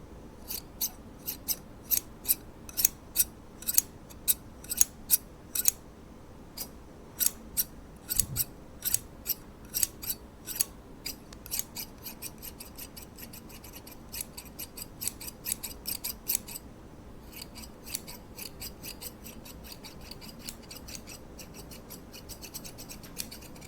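Barber scissors snip repeatedly in crisp, close metallic bursts, some in quick clusters and others spaced out, with no talking over them.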